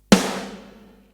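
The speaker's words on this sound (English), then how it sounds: "for this kit, it is the Ludwig 402 Supraphonic snare" A single Ludwig 402 Supraphonic snare drum hit from a heavy-music kit, one sharp close strike with a bright, full ring that decays over about a second, heard alone.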